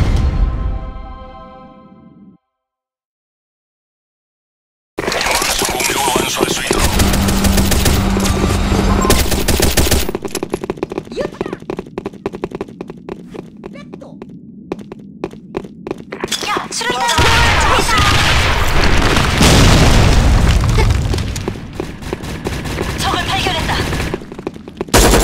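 Sudden Attack firefight: rapid machine-gun bursts and single gunshots, a short silence, then a loud grenade blast and more sustained gunfire, dense and close, with a voice speaking briefly.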